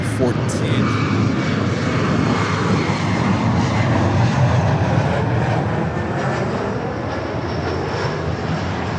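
An 11-year-old Boeing 747-8 Intercontinental at Los Angeles airport, its jet engines giving a loud, continuous broadband roar that holds steady throughout, with a voice talking over it.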